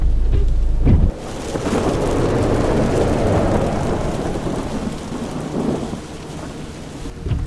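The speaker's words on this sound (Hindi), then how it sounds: "कार के शीशे पर पानी की बूंदें तेजी से गिरने लगी।" Heavy rain pours steadily onto a car windshield while deep thunder rolls through, opening with a loud crack that fades into a long rumble beneath the constant hiss of the downpour.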